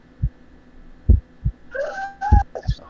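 Heartbeat sound effect in a Call of Cthulhu tabletop game session: deep, booming low thumps in paired beats over a faint hum, with a brief voice-like tone midway.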